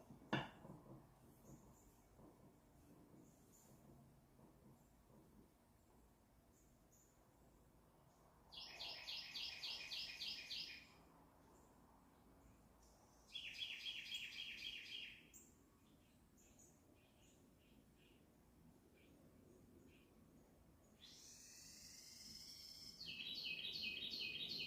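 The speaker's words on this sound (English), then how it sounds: "That was a crazy bird call." A bird calls outdoors in bursts of rapid, high, chattering notes. Three separate spells are heard over quiet ambience with faint rustling.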